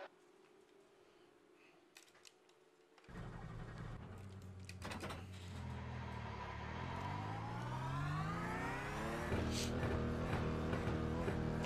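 Porsche 992 Cup race car on track on cold tires, its engine firing up after a quiet start then revving in rising, climbing sweeps through gear changes, loud and steady from inside the car.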